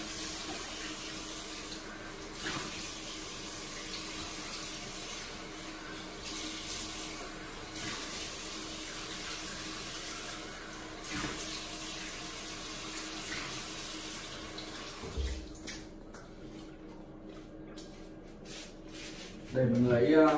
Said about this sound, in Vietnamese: bây giờ mình sẽ rửa khuôn mặt của mình trước đã